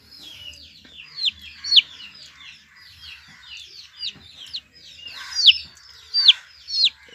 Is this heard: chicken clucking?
yes